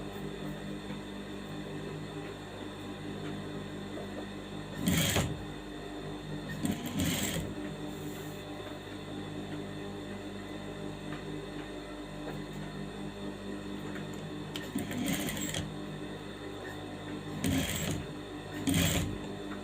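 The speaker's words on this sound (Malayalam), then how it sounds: "കുറച്ച് കൂടുതൽ ഗാദറിങ് വേണമെങ്കിൽ നമ്മൾ അടുത്തടുത്തായിട്ട് നമ്മൾ ഇതിനെ സ്റ്റിച്ച് ചെയ്ത് പിടിപ്പിക്കുക." A sewing machine stitches gathers on a frock kurti, running in a steady low whir with brief louder bursts of rapid stitching, heard close with no talk.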